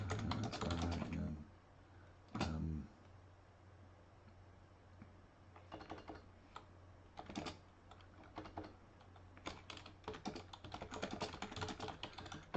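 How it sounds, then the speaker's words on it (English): Typing on a computer keyboard in irregular bursts of quick clicking keystrokes, with a few louder thumps and quiet pauses between, fairly close and clear. "I just type some stuff in here."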